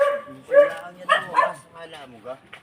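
A dog gives a few short yips and whimpering barks up close, high-pitched and uneven, with brief pauses between them.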